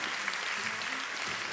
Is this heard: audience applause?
yes